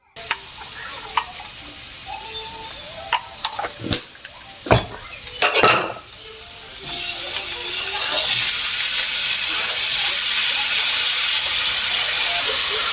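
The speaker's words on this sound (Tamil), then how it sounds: "தாளிக்கும் சத்தம் சங்கீதம்." Spices crackle and sizzle loudly as they are tempered in hot oil, with a few sharp metallic clinks of a spoon against the pan before a steady, rising hiss takes over.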